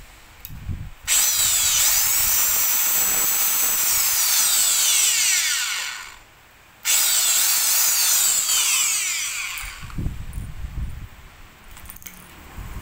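A corded hammer drill in hammer mode runs in two long, loud bursts of whining motor and rapid rattling percussion, with a brief pause between them and the motor spinning down at the end.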